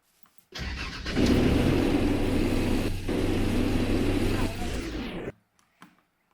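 A car engine runs and revs for a few seconds on a rough village road, a loud steady mid-pitched drone that cuts off abruptly, with near silence on either side.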